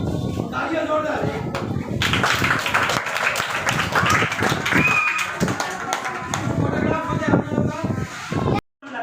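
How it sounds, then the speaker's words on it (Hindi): Loud, sustained applause fills a school workshop on drama for children, a dense wash of clapping that runs for several seconds before cutting off abruptly. "तालियां जोरदार"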